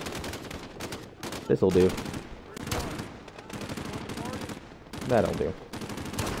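Sniper shots and gunfire in Call of Duty: Modern Warfare, sharp repeated shots in short bursts across the clip while someone talks over them.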